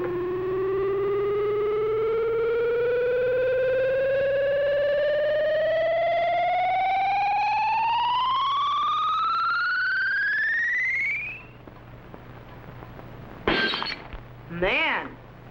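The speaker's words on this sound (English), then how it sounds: "whatever the beam hits will be instantly shattered by the ultrasonic sound wave vibrations" Sci-fi ultrasonic ray effect from an old cartoon: a loud, steadily rising electronic whine holds for about eleven seconds, then stops. Two sharp bursts of a glass jug shattering follow.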